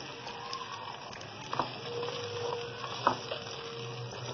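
Washed green peas fry in a masala in a pan for pulao, a low steady sizzle with a few soft clinks and stirring scrapes, close and quiet with no talk.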